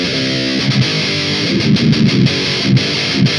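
Electric guitar through a Marshall Valvestate amp with heavy distortion and scooped mids churns out chugging, palm-muted riffs in short rhythmic bursts, loud and close, with no voices over it.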